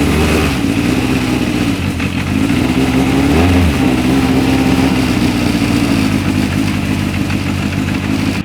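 A Formula 2000 race car engine drones loudly and continuously nearby at Imola, its pitch rising and falling slightly as it revs.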